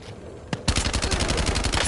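Gunfire in the video game Black Ops 7 Warzone: a single sharp shot, then a loud sustained burst of rapid automatic fire close by.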